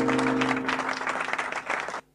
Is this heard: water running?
no